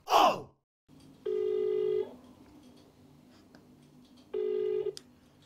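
Two electronic telephone tones from dialing a phone, each lasting under a second, separated by a pause with faint room noise, after a brief sound at the start.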